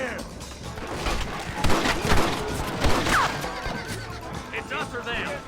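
Rapid gunfire erupts during a frontier shootout in Red Dead Redemption, bursts of shots cracking amid shouting voices, with horses neighing and hooves clattering in the mix.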